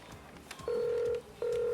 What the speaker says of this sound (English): you get a phone call from Benny Sanderson